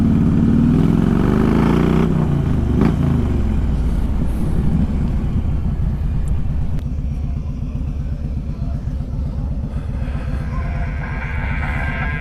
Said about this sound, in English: There's a bike behind me, there's bikes in front of me.